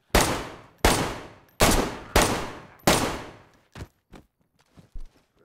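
Five loud gunshots from the survival video game DayZ, set in Livonia, ring out in an irregular sequence of sharp, close blasts, followed by a few fainter, shorter cracks and knocks.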